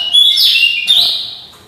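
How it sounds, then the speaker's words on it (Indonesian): Cucak jungkok bird singing a rapid, bright series of high chirps and trills, loud and close, with a short pause before another burst. "Ya, ini cucak jungkok."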